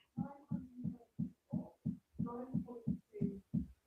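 A clicker sitting on a desk produces a steady, heartbeat-like throbbing, a quiet regular series of soft double thumps repeating about every half second, with no voices.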